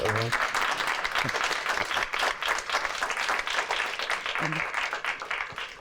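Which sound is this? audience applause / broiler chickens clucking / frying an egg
audience applause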